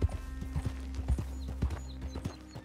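Horse gallops in the video game Red Dead Redemption 2, a quick, rhythmic run of hoofbeats with a low engine-like hum beneath, fairly quiet and close.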